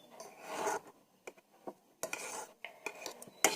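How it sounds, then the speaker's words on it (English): A spoon stirring a homemade lip gloss mix of Vaseline and cocoa butter in a small container, giving intermittent scraping and clinking strokes at close range with short pauses between. "I'm gonna mix it until it get like a butter texture"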